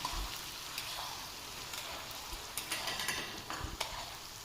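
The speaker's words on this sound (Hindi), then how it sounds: "इसको भी हमने 1 से 2 मिनट फ्राई कर लेना है" Garlic ginger paste frying with potatoes in a karahi over a medium flame, a steady soft sizzle with faint scraping stirs, no talking.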